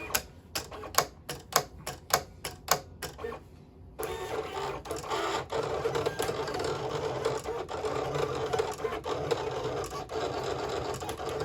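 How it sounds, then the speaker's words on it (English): A vinyl cutter slicing Siser glitter heat-transfer vinyl starts with a series of sharp, rhythmic mechanical clacks as the carriage moves. It then settles into a continuous buzzing whir of motor and blade, close and fairly loud, with no talk. "there's no reason for you to watch this vinyl cutter"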